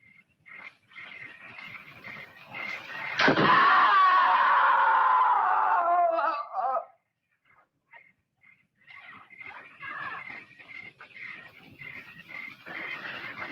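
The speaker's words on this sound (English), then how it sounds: "I'm sure I heard a scream." A single loud, drawn-out scream rises sharply and holds for a few seconds before cutting off, with quieter background noise before and after.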